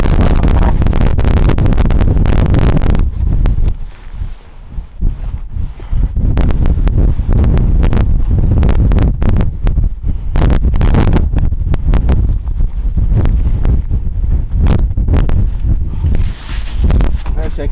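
Strong wind buffets the microphone on a mountain cliff during a rainy climb, a loud low rumble that surges and drops throughout, with people talking over it.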